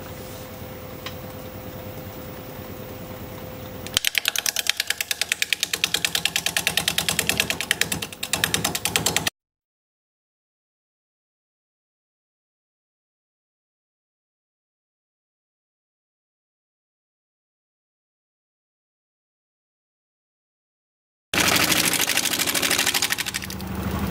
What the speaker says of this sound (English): So 570 RPM, 5/8 inch freshly sharpened bowl gouge